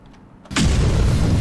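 An explosion effect from a Pokémon battle edit hits hard after a brief near-silence, then swells into a loud, sustained booming rumble that holds to the end.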